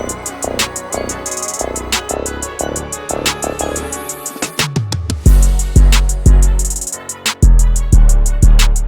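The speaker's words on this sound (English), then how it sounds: "I added this drum fill in between the last part of the intro" A hip-hop beat with steady melodic stabs, broken midway by a quick rolling drum fill before deep booming 808 bass hits come in.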